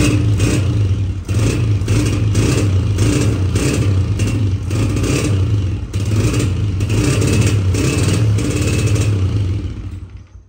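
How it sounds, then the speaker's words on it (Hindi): A new motorbike engine starts up and revs loudly and close, with repeated surges and steady clattering, then cuts off and fades at the end. "तो अब आपको बाइक स्टार्ट करके दिखाते हैं, अब इसकी साउंड चेक करना।"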